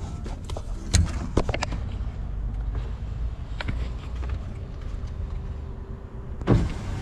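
A replacement power window regulator motor in a Jetour X70 Plus car runs in one steady whir for several seconds, closing with a brief thump and click, heard up close with no talking.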